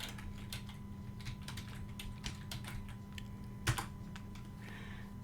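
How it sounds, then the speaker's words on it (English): Keys tapped on a computer keyboard while a place name is entered into a terrain-mapping website, a steady run of light, close clicks with a brief louder clack near the end over a faint background hum. "So in this case, we type Matterhorn."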